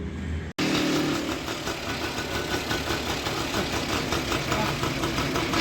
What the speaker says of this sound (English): So this is the concept of starting the engine.